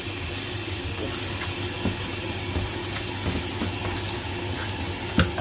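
Water pours in a steady broad rush into a cooking pot, with a few faint clinks and knocks from the vessel underneath.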